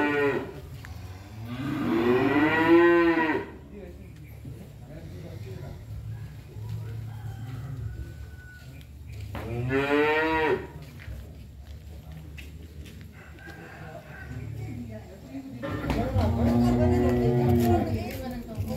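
Cattle at a farm selling young bulls and sacrificial cows give three long, loud moos separated by pauses, over a steady low background hum.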